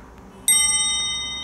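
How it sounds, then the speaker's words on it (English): A Google Pixel phone notification sound, a single bright chime-like ding with clear ringing overtones that rings on and fades slowly in a quiet room. "Tap on notification sound."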